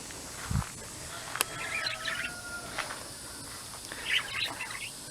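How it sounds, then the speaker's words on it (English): Birds chirp and squeal in a farm aviary, scattered short calls near and mid-distance over a quiet background, with one brief low thump near the start. "The birds are up there all over the place."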